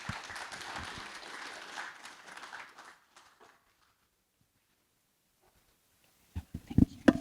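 Audience applause greets a guest speaker introduced at a sustainable investing talk, dense clapping for about three seconds that fades into silence, with a few louder thumps and handling noises near the end.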